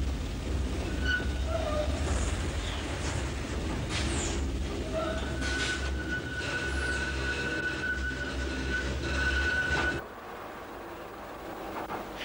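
A Docklands Light Railway train runs along the line with a steady rumbling roar, a sustained wheel squeal partway through, then the noise drops off abruptly near the end.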